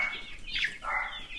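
Young laying hens in a farm trailer give a brief burst of clucking and squawking with a quick flutter of wings, fairly close and without talk.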